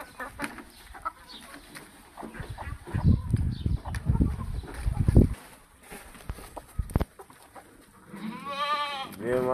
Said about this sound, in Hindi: ये बकरियाँ अभी तंग कर रही हैं, बकरियाँ आ गई.